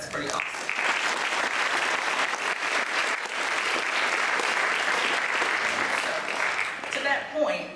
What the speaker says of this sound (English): you deserve to clap because that's pretty awesome